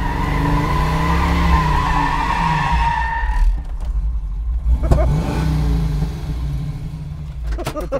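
A 1969 Camaro Z28 RS engine revs hard while the tires squeal and skid in a long loud screech, then the noise breaks up into rough engine bursts, close and dominant.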